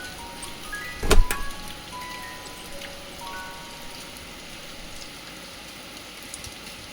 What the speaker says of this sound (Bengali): আর কি প্রচণ্ড বৃষ্টি পড়ছে দেখো।